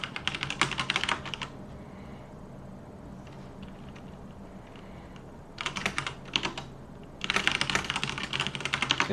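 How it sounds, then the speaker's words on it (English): Rapid typing on a computer keyboard during a typing test, close clicking in dense bursts separated by a quieter pause, with no speech. "I'm going to do a typing test really quick."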